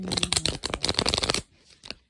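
Rapid riffling of a deck of cards being shuffled, close and crisp, in a dense burst that stops, followed by a brief faint flick.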